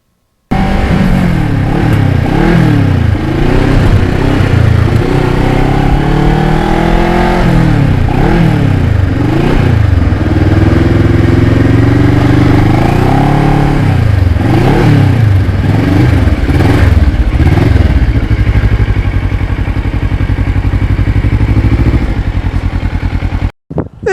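Restored Kawasaki Ninja motorcycle being ridden, engine loud and close, revving up and down through repeated accelerations and gear changes with wind rush, cutting off at the end.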